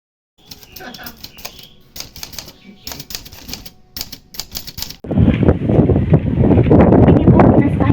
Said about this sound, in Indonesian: Tolong, ketik sekarang dengan cepat.